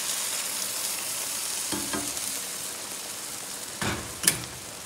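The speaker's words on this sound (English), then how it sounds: "So it's boiling." Pork adobo with bay leaves and added boiled water simmering in a pot, a steady soft bubbling hiss with a couple of brief louder clatters near the end.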